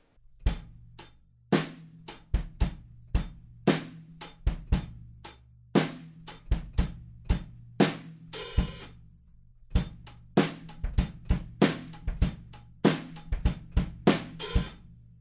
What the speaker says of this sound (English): Halfway through we have one little hi-hat sizzle